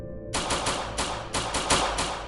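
Rapid gunfire sound effect for a gangland shooting, a dense burst of loud, overlapping shots hammering continuously after a brief quiet start, harsh and close with no voices.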